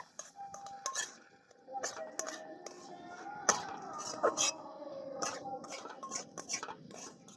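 Semolina filling for gujiya is stirred in a pan, a spoon scraping and clinking against the metal in irregular close taps and scrapes, fairly faint, with no clear talk.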